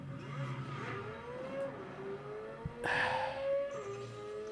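A Corvette engine playing back from a video, a moderate rising whine as the car accelerates through gears, with a brief sharp burst midway.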